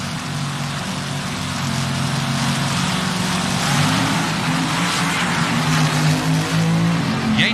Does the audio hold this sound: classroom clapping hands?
no